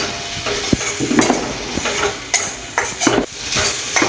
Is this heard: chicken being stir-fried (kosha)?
yes